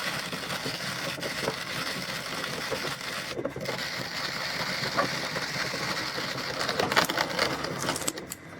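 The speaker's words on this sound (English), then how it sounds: "And now you just have to grind it down. And then it comes out as actual coffee powder on the other end," A coffee grinder grinds coffee beans in a steady mechanical whirr with a rattling texture, moderately loud and continuous.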